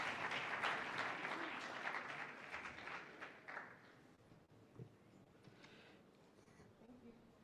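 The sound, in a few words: applause for panel members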